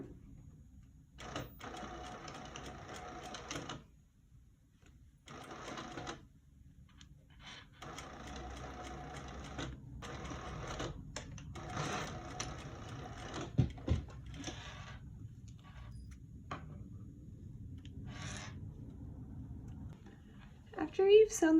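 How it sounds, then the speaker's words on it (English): A sewing machine runs a short 1/8-inch seam through the layers of a lined zip pouch, whirring in several stop-start bursts with pauses, fairly quiet and steady, while a voice talks over it. "we're just going to sew a little 1/8 of an inch seam starting from here, overlapping with the existing seam"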